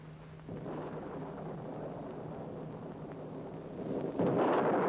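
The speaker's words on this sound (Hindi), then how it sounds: "तूफान न जाने कब से है ये तूफान कभी खत्म भी होगा?" Thunderstorm in a 1961 Hindi film: a steady roar of rain and rumbling thunder, growing louder and harsher near the end as a heavier crack or gust breaks in.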